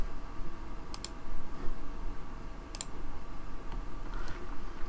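A computer mouse clicking during an online Go game: a few sharp, isolated clicks, some doubled, spaced a couple of seconds apart over a low, rumbling room background.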